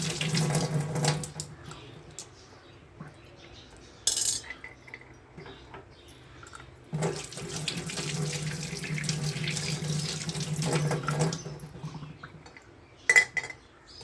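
Running tap water splashes into a sink in several bursts as a lucky bamboo plant is rinsed, with faint clinks between, close and alone without talking.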